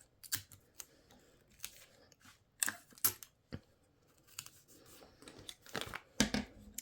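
Tape torn from a roll and pressed onto a fabric lining piece while making a small vinyl lotion holder, heard as a string of short, sharp rips and crinkles at close range with quiet pauses between, no talking.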